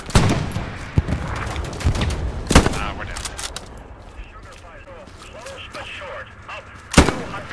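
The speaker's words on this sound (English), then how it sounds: "AT gun shooting the tank." Anti-tank gun firing on a tank in the Hell Let Loose war game: sharp, heavy blasts at irregular intervals, with a loud shot near the start, another midway and a strong one near the end, over a dense battlefield din.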